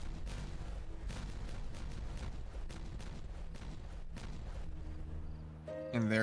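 A loud barrage of video game explosions at a mecha beaver base, repeated booms rolling together, then cutting off near the end into a brief tonal game sound.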